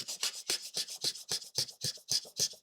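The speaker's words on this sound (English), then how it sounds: "So I'm just rubbing, and I just want to make some of that wood come out." A painted wood block is rubbed to expose the bare wood, giving about ten rhythmic, close scraping strokes in a brisk back-and-forth pattern, with no talking.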